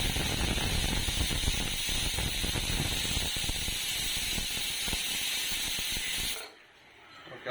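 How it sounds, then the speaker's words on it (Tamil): A pressure cooker of chicken biryani vents a loud, continuous whistling hiss of steam, with a rough sputter beneath, which cuts off abruptly near the end and leaves a quiet kitchen. "ஓகே, விசில் வரப்போகுது"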